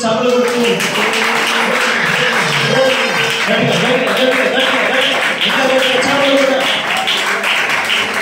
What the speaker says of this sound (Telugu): స్తోత్రం కదా, గట్టిగా స్తోత్రం చెప్పండి. చప్పట్లు కొట్టు.